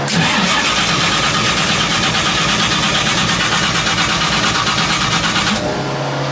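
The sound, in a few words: hot rod car engine cranking, trying to clear a flooded engine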